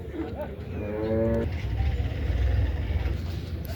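A cow lets out a single loud, drawn-out moo close by at a livestock market in Mansa, followed by low rumbling outdoor noise.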